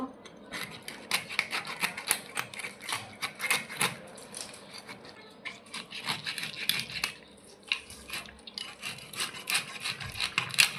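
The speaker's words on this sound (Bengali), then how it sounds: "মাথাটা মাঝখান থেকে ফেলে নিব।" A knife cuts a koi fish head down the middle, producing close, repeated crunching and scraping strokes against a cutting surface in quick irregular bursts.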